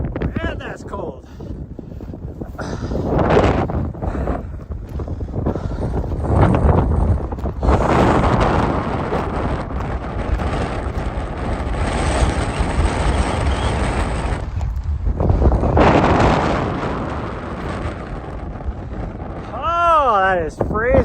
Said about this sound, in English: Oh, there's that full brunt of the wind.